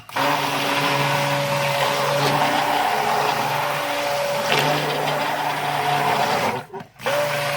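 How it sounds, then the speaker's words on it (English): A handheld stick blender mixing hot process soap whirs steadily and loudly for several seconds, its motor pitch shifting slightly, then cuts out briefly near the end before resuming. "this is hard to hang on to, this blender."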